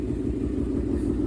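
A car engine idles steadily after running for a long time, with a low, continuous rumble and a faint uneven pulse that may be a misfire. It sounds close, with no talk.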